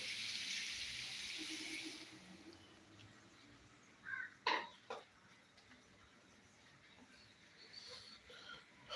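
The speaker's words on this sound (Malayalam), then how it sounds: "വെള്ളം ഒഴിച്ചു കൊടുക്കുക" Water poured into a pan of chickpea curry for a Kerala-style kadala curry, a steady watery rush for the first two seconds followed by brief clinks and splashes, then quiet kitchen background.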